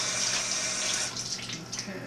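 Tap water runs steadily into a sink during handwashing in a home kitchen, a close continuous hiss and splash that eases slightly midway.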